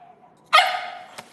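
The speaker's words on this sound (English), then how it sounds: "He normally only barks at Germans." A dog gives a single sharp, loud bark up close after a faint whine, followed by a brief softer sound.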